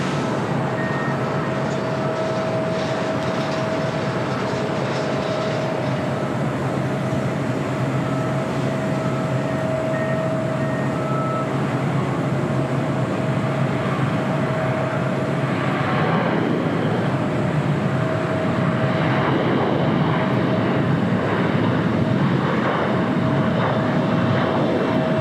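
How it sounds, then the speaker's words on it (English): Boeing 737-800 of Sun Country Airlines on arrival to runway 25 left at LAX, a steady loud jet roar with a sustained tonal whine that swells slightly toward the end, with no voices. "Next arrival on 25 left is Sun Country Airlines Flight 9002 coming up from Bullhead City, 737-800 wearing the hybrid Sun Country livery"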